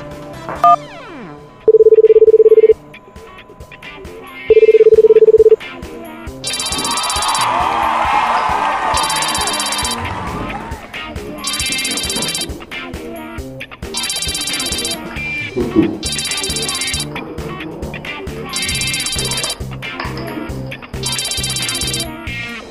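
A phone call is placed: short dialing tones, then a repeating ring tone in regular bursts with gaps, clear and close, with a little background noise between rings.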